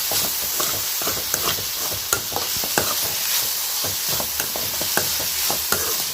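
Shredded cabbage stir-fry sizzling loudly in a pan, a dense constant frying hiss punctuated by regular spatula scrapes and taps close by.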